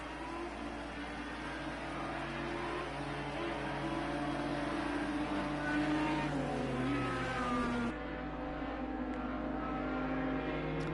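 IndyCar race cars in a racing video game at Long Beach slow to pace speed under caution, their engines a steady droning whine that shifts pitch as they decelerate, continuous and mid-distance.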